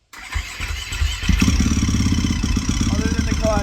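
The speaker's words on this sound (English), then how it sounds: "The engine is running fine." A KTM 450 dirt bike engine starts and settles into a steady, loud, buzzing idle, close up, with a rapid, even putter throughout.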